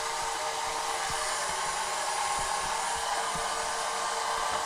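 A pond vacuum sucks in water during a pond clean, a steady, loud, broadband whooshing roar close by with faint low thumps underneath, no talking.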